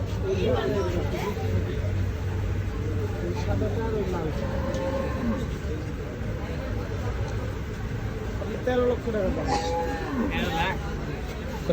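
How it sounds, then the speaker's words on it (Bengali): Cattle lowing at the crowded Gabtoli cattle market in Dhaka, large bulls offered for sale, with several drawn-out moos rising over steady crowd chatter and market noise, people talking throughout. "সবই দেখেন অনেক বড় সুন্দর সুন্দর গরু।"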